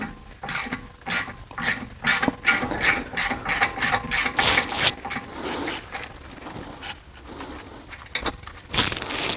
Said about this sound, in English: here's my T30. I'll go ahead and put it in here. Loosen this up.